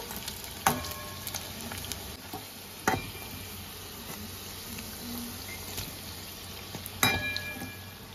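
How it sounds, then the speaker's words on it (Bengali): Raw banana pakoras frying in hot oil give a soft, continuous sizzle. Sharper crackles and clinks from turning the fritters come every few seconds. "এরকম উল্টে পাল্টে এগুলো ভালো করে ভেজে নেব।"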